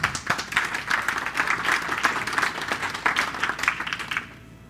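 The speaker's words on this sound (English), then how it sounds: "please give a round of applause for Jake and Stelios" An audience applauds two speakers at a talk on launching an LLM chatbot, a dense, steady patter of many hands clapping close by for about four seconds before it quickly fades out.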